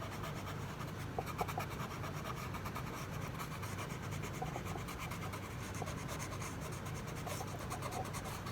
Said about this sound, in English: I'm going to take my eraser and gently small circle and erase those original hexagons.